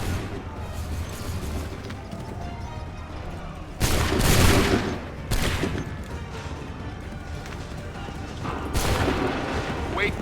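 Musket volleys in Assassin's Creed III Remastered, a few loud crashing bursts of massed gunfire with rumbling echoes, spaced seconds apart over a battlefield din, with voices shouting orders.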